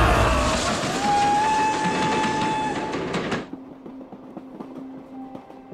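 A military train rumbles loudly on its rails in a bandit-raid drama scene set in northeast China, then the roar drops away abruptly, leaving a quieter, steady rhythm of wheel clicks.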